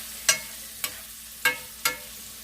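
Onions fry in a pan at moderate heat, with four soft, evenly spaced scraping stirs over a faint steady sizzle. No voices.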